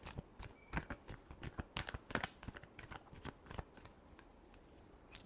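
Tarot cards are shuffled close up in quick, irregular riffling bursts with soft slaps and flutters that keep going, heard alone without talk.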